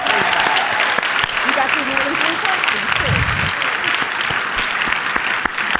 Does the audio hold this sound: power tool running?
no